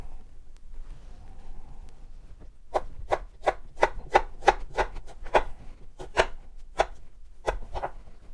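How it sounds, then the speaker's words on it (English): A knife chops through an onion for an Afghan salad, giving about a dozen crisp, fairly regular cuts on a board, close and clear, after a quiet pause with a faint rustle. "cut around the root, and then repeat for the remaining half"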